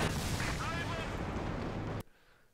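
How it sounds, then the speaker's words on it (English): An IS-2 heavy tank shell strikes a base bunker in Company of Heroes 2, a dense, rumbling artillery blast with battle noise behind it that cuts off sharply near the end, heard faintly under quiet commentary. "I think the IS-2 overshot and hit the base bunker."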